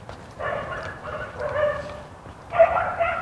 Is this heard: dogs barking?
yes